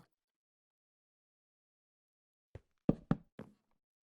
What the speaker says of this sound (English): let's add doors to the other side now